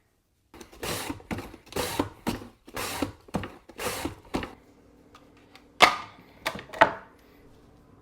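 Carrots, a New Carota and an Uzbek Golden, pushed over a small hand slicer to julienne them, giving a run of about six loud, evenly spaced rasping strokes, then a few sharper, sparser cuts over a low steady hum.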